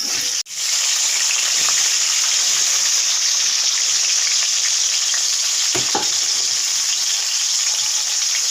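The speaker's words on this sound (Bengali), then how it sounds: "প্রথমে আমি আলুগুলোকে ভেজে নিচ্ছি, হালকা লবণ দিয়ে দিচ্ছি।" Potatoes fry in a pan with a little salt, giving a loud, steady, continuous sizzle that runs unbroken from start to finish, with a brief stir-like clatter near the beginning.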